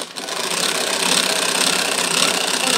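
Two-speed electric hand mixer whisking egg whites with sugar for floating islands, a continuous close whirring hum with a steady buzz, running without pause and without talking.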